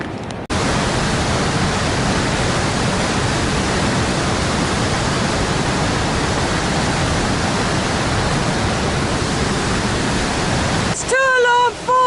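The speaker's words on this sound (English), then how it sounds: "It's Tuolumne Falls!" Tuolumne Falls, a waterfall along the Pacific Crest Trail in the Sierra, roars as a loud, steady rush of falling water close by, cutting off abruptly near the end as a voice begins.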